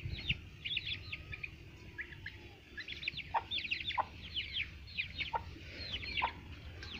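Desi hens cluck and chatter in short, scattered bursts over a low background rumble, fairly close, with small birds chirping intermittently.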